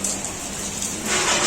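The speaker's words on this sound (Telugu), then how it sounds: "వర్షం కూడా పడుతుంది" Rain falls steadily outdoors, a close, continuous hiss of drops that swells slightly louder toward the end, with no talk.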